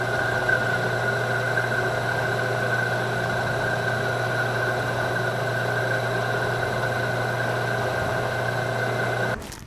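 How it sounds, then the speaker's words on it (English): A cheap Chinese lathe runs at a steady speed, giving a continuous mechanical hum with a strong tonal whine. The sound is fairly close and carries on alone until it stops abruptly at the end. "So it's back to the piece of junk Chinese lathe again."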